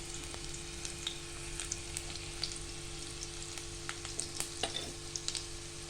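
Cumin seeds sizzle in hot oil in a pan for dal palak, a steady close crackling fry with frequent small pops throughout and no talking.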